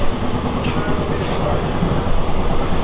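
Inside an AC local train running from Sealdah to Ranaghat in heavy rain, a steady loud rumble and rattle of the carriage fills the scene as the train pulls into Ranaghat.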